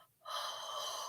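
A single sharp, breathy inhale through the nose and mouth, close and fairly loud, rising suddenly after a brief quiet moment and holding as a steady airy rush.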